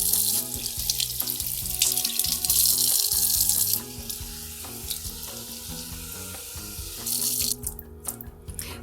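Hot water at about 100 degrees runs steadily from a tap onto a wig with a silicone insert, a loud continuous hiss and splash that softens midway and then swells again before tailing off.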